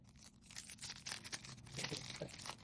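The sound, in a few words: opening MTG Avatar beginner box packaging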